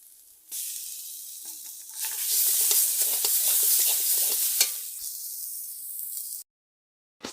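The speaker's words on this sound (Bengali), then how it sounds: "আর কাঁচা লঙ্কা কিছু দিয়ে দিচ্ছি বেশ একটু ভাজা ভাজা হয়েছে এখন আমি সর্ষে বাটা দিয়ে দিচ্ছি" Mustard paste with green chillies is added to a hot pan for a banana-flower dish: a close, loud sizzle swells and holds steady, then eases and cuts off abruptly, with no voices.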